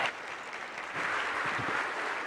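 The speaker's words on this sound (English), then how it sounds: "If you'll help me give them a round of applause." An audience at a county government State of the County address gives a steady round of applause, dense clapping sustained and fairly close throughout.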